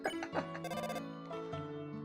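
A telephone rings in the game Hometown, with repeated electronic chirping bursts and melodic tones over about two seconds, fairly quiet and with no talk.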